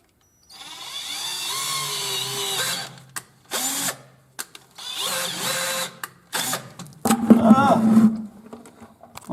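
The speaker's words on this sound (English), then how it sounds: "With the biggest drill bit I can find. I'm gonna go right in here." A power drill fitted with a large bit bores into a tractor in bursts, the motor whining, stopping and restarting several times, loud and close, with grinding and binding as the bit bites into the metal.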